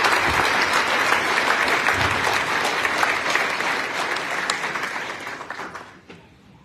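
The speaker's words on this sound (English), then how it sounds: "If we can give them a round of applause on the way up" An audience at a county officials' public meeting gives a round of applause, loud and sustained clapping that tapers off and fades to quiet near the end.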